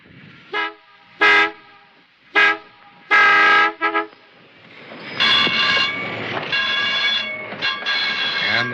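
A Key System Bay Bridge train horn sounds in several short blasts, then a long sustained tone as the train rumbles past through the 40th Street cut, fairly close.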